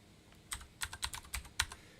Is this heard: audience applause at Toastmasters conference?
no